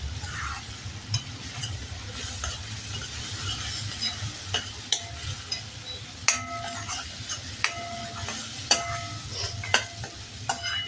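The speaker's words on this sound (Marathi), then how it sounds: "ते वाटण घालणार आहोत, ते छान परतून घेणार आहोत" Ginger-garlic paste with sesame seeds and cashew pieces is sautéed in ghee, with a busy sizzle, constant spoon scraping and several ringing metallic clinks against the pan.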